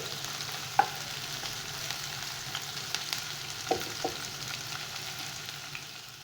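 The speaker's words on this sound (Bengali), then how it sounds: "এবার পেঁয়াজ কুচিগুলো ছেড়ে দেব পেঁয়াজটা অনেকটা বেরেস্তার মতো অর্থাৎ ডার্ক কালার করে ভাজতে হবে মানে একটু ডিপ ফ্রাইড হবে" Chopped onions deep-fry in hot oil until dark brown, beresta-style, for Golbari-style kosha mangsho, giving a steady, close, dense sizzle throughout with a few sharp utensil clicks and stirring taps and no voices.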